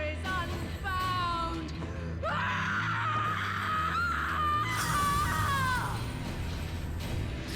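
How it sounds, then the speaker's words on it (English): A Final Fantasy XIV character lets out a long, loud, wavering scream that rises and falls over several seconds, preceded by shorter cries over a low game background. "something about that scream was very funny to me"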